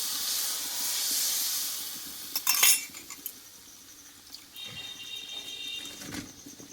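Okra cooking in a pan with a steady frying hiss as spice paste and water go in, a burst of loud sizzle and clinks midway, then quieter bubbling with occasional utensil taps.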